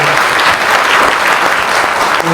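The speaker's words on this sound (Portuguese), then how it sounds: "então uma salva de palmas para vocês." An audience at the MSX Summit in São Paulo gives loud, steady applause, a dense wash of clapping heard throughout the short burst with no talking.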